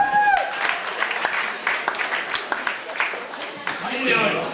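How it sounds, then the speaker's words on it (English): Applause from a comedy-night crowd at The Forum welcoming a stand-up comedian, a dense wash of clapping that swells and dips, with whistles and a voice over it at the start. "Please put those hands together."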